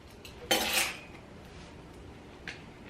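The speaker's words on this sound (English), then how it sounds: "I'm going to put that vanilla in there." Metal spoon clinks against a mixing bowl while vanilla is stirred into chocolate chip cookie dough in a home kitchen, one loud scraping clatter followed later by a brief lighter tap.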